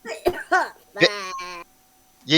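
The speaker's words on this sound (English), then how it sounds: "This cough hurts." Several short, strained coughs in quick succession, close up, mixed with a raspy voiced sound and a brief breathy hack at the end.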